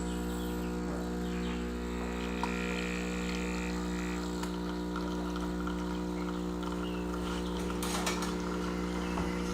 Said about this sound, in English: I put my cup under it and I hit the 2-cup option.